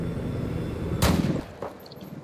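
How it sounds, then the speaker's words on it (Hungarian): Battlefield 4 gunfire on the Caspian Border map during a competitive match: a single sharp shot, followed by a fainter second report, over a steady low game-ambience bed. "Szép volt, szép lövés volt TDS Clyde részéről, gyönyörű szép volt."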